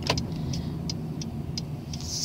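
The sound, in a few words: car driving, stopped at traffic light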